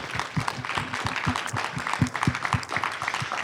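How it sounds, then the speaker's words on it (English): Scattered hand claps from a small group at a congressional candidate forum, uneven and moderately loud, with a low hum of background murmur underneath. "Let's give them a round of applause."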